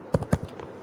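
A brief burst of two or three close, crisp keystrokes on a computer keyboard, followed by fainter taps.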